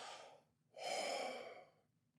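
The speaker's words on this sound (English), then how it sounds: "we acknowledge that with a simple breath" A single slow, deliberate breath: a short inhale, a brief pause, then a longer, fuller airy exhale, close and quiet with no talking.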